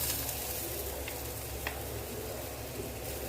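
Mushrooms fry in a pan with pepper masala, giving a steady, close, moderate sizzle with faint crackles and no talking.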